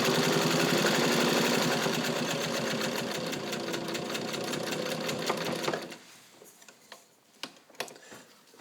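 A 1942 Kenmore 117.59 Streamline rotary sewing machine, fully serviced, stitches garment leather in a loud steady whir with rapid needle ticks for about six seconds, then stops, leaving faint clicks and handling noises.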